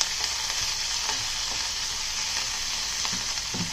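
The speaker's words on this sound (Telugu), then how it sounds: "పచ్చిశనగపప్పు, మినపప్పు ఫస్ట్ వేపుకుందామండి. వేగడం స్టార్ట్ అయ్యాక 2 రెమ్మల దాకా కరివేపాకు, హాఫ్ కట్ట కొత్తిమీర అండి ఇది." Chana dal, urad dal, curry leaves and coriander fry steadily in a hot pan for tomato chutney, giving a continuous close sizzle with faint stirring scrapes and no talking.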